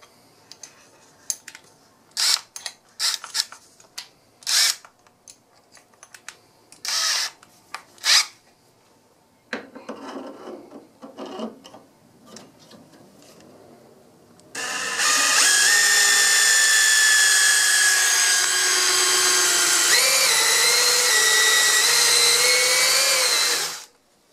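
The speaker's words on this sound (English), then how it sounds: "that'll just help guide the reamer through and give us a perfectly reamed hole in the correct location" Drill-driven reamer cutting through a bolt hole in an aircraft wing part, preceded by short clicks and brief bursts, then a steady loud high whine running continuously for about ten seconds before stopping.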